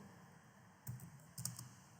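Fingers tap a computer keyboard in two short, soft bursts of quick keystrokes over a quiet background hum, close by and with no voices.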